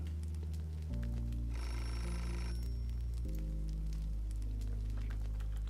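Telephone ringing in the video game Beholder: a steady electronic ring over a droning game soundtrack with low sustained tones and a rain-like hiss, loud and continuous and with no talking.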